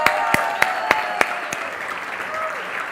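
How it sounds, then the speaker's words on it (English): Scattered audience applause at a cocktail competition final, with a few sharp individual claps standing out over a crowd murmur before the clapping thins and dies away. "So a big applause to Flor de Caña for start."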